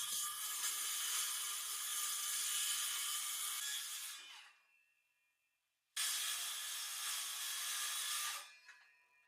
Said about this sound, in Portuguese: Então eu posso seguir a linha com minha serra circular para aparar o excesso.